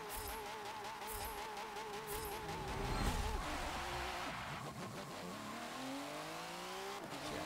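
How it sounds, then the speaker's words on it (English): Racing car engine in the Forza Motorsport 7 driving game, a front-wheel-drive race car with a front-exiting exhaust, revving and shifting through gears, with whining pitch sweeps, steady and fairly loud throughout, with faint background talk. "There goes a racing car."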